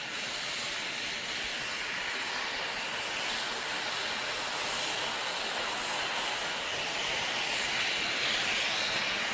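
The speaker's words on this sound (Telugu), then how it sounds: "జగన్ ఇప్పుడే హెలికాప్టర్ ద్వారా సురక్షితంగా ఈ నల్లగాలం హెలిప్యాడ్ వద్దకు చేరుకున్నారు" A helicopter arrives at the Nallagalam helipad near Pavuralagutta, producing a steady, loud, broadband whooshing roar that fills the whole stretch without any voices.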